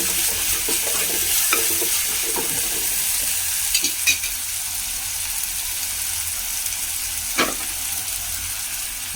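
Small garlic cloves sizzle steadily in hot oil in a pan alongside shallots, green chilli and ginger for a fish curry, a continuous soft frying hiss with occasional stirring clicks and scrapes.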